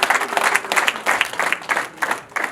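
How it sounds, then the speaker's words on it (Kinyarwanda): Applause at a Rwandan wedding, a brief burst of crowd clapping in rhythmic clusters, fairly loud and close, fading and swelling over a couple of seconds. "Amashyi menshi, muduha amashyi make."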